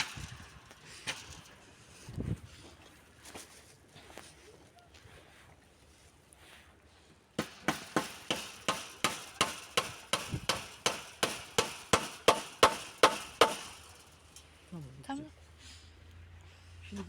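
Nails are hammered into wood outdoors in a village setting, with a run of about fifteen sharp, evenly spaced loud blows in the second half, after scattered knocks and people talking.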